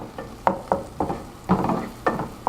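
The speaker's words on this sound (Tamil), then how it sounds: "நல்லா வதக்கும் வெங்காயத்தை. ரொம்ப சிம்பிள். நல்லா வதக்குங்க." Onions sautéed in a pan for kothu parotta, sounding as a rhythmic series of six or seven scraping stirs over a soft sizzle.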